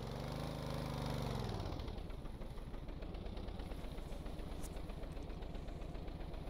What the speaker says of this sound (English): Let's go 6, start it up. Let's go full throttle.